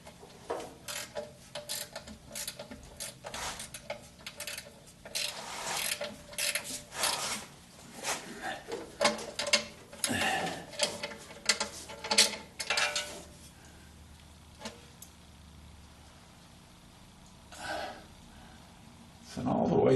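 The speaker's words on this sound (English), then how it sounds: "what I've got is a ratcheting 3/8-inch wrench that fits onto the self-tapping screw" A 3/8-inch ratcheting wrench turning a self-tapping screw on the bell housing dust cover of a 1976 Corvette, giving bursts of rapid ratchet clicks in a workshop with speech in the background.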